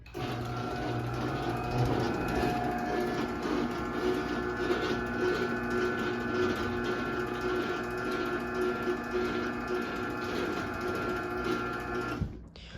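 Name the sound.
Sears Craftsman 139.53637SRT machine running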